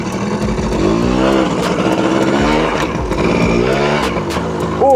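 A warmed-up Suzuki V80 motorcycle engine runs loud and close, its two-stroke note rising and falling as the throttle is worked, with faint voices underneath.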